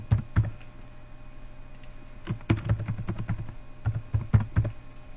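Password being typed on a computer keyboard while a user account is set up in SQL Server, in two quick bursts of sharp keystrokes and clicks over a low steady hum, with no voice.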